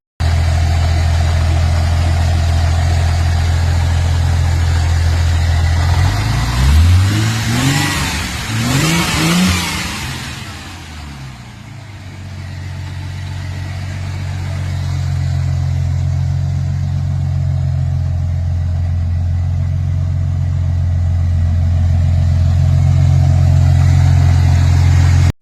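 A 1968 Ford Galaxie 500 Fastback engine idles with a steady low rumble, then revs hard in a few quick blips before settling back to a loud, even idle.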